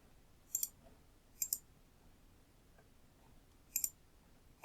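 Mouse clicks on a simulation's Add 10 button, faint and crisp, in three separate clicks with pauses between them in a quiet room.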